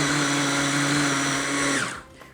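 A steady, loud motorized whir of a food processor blade spinning, chopping butter for a tiramisu tart, running continuously then winding down abruptly near the end.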